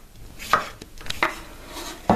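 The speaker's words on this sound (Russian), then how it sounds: "Огурчик разрезаем пополам и нарезаем" Knife slicing a cucumber on a cutting board, three or four crisp cuts at an uneven pace, close by and fairly quiet.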